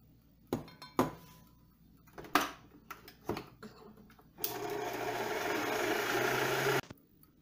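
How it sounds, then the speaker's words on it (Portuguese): Electric mixer switching on to beat margarine and sugar for cake batter, a whirring buzz of about two seconds following several sharp clinks and knocks of bowl and utensils. "Vou ligar a batedeira e vou deixar bater um pouquinho."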